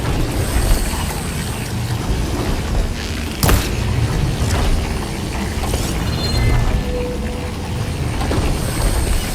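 Gears being shot to lock pillars in place in Horizon Forbidden West, a dense bed of mechanical game ambience with a sharp impact near the middle and scattered clicks and rattles.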